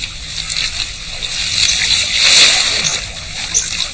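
An amphiuma salamander, a specialised aquatic salamander, is dropped back into the water, making a brief close splash and slosh over a few seconds with bright spray noise peaking midway.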